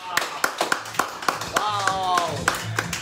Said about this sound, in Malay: Berikan tepukan.